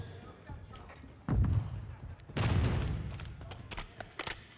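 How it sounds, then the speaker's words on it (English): Grenades bounce off walls in a Call of Duty Search and Destroy esports match on Breenbergh Hotel, giving two heavy thuds amid scattered gunshots while a caster talks throughout. "There are nades ricocheting off the walls."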